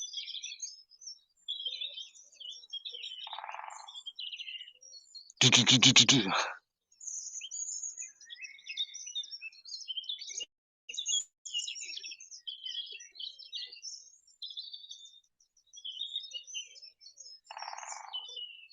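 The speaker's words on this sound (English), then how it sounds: "The beautiful sounds of the woodpeckers." Scattered woodpecker calls, chirps and short trills along a river over a quiet background, broken by one brief loud burst partway through.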